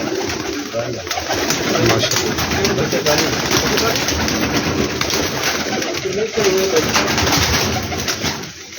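Teddy pigeons coo continuously in a dense, noisy flock nearby, with voices talking over the steady cooing.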